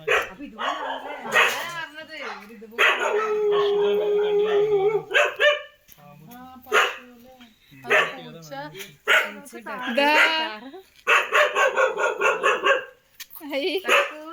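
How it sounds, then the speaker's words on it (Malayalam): Several dogs bark, yip and howl close by in a Kerala home at night, a busy overlapping chorus of barks and drawn-out howls mixed with people talking. "ഇവിടെ നിറയെ നായുണ്ടല്ലോ"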